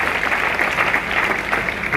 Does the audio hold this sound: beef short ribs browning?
no